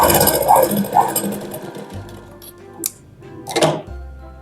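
A sewing machine stitches the side seam of a baby frock in short bursts, its whirring motor starting and stopping with a few clicks in between, close and fairly loud.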